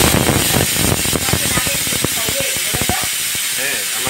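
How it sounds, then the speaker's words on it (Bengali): A small pressure cooker boiling potatoes lets off a loud, steady hiss of steam that fills the whole stretch, close by and constant, with a few faint rattling and whistling tones underneath. "ছোট কুকারে দিয়েছি আলু সিদ্ধ"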